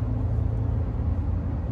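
A stock 1995 Honda Accord wagon with a five-speed manual, its engine a steady low rumble heard from inside the car while driving, even and continuous with no talk.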